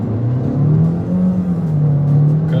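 A Jeep Renegade 1.3 turbo engine in sport mode accelerates with a strong, steady droning rumble whose pitch rises and holds, heard loud and close from inside the car with no talk.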